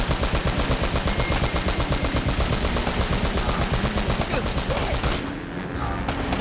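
Gunfire in Uncharted: Drake's Fortune, long rapid automatic bursts with a fast even rhythm, loud and close, briefly dropping off near the end before resuming.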